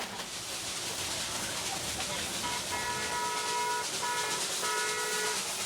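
A small train climbing up to Darjeeling gives a continuous hissing, rumbling run, with whistle-like tones sounding in short bursts during the second half.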